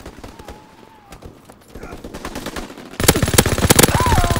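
Mounted machine gun in Call of Duty WW2, rapid automatic bursts that grow louder and closer and end in a loud, dense stream of fire, with a voice talking over the early part.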